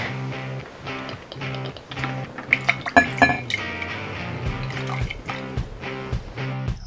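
Warm water splashes and trickles into a green thermochromic color-changing mug, with bright clinks against the cup, partly masked by loud rhythmic background music.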